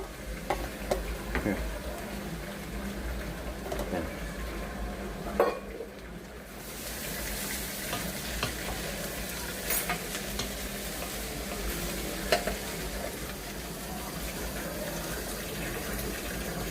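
Rice is stir-fried in a hot pan for chicken fried rice: a steady loud sizzle with scraping stirring and some pan clatter, close by, with little or no talking.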